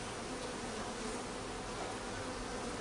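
Bees and a wasp buzz steadily at an open beehive during an apiary inspection, a dense, even drone that fills the whole stretch, close and unbroken with no voices.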